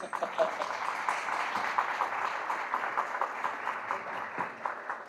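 Applause from a business summit audience in Brazil greeting a panelist called to the stage, a steady wash of many hands clapping at moderate distance for about five seconds, with faint voices mixed in.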